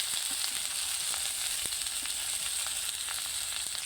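Hilsa fish paturi with mustard frying in a pan, a steady dense sizzle holding an even level throughout with faint crackles and no talking.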